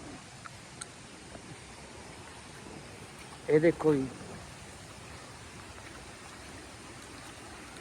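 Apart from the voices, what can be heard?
rainwater from fields flowing through a culvert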